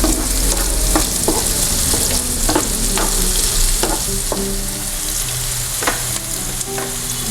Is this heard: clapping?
no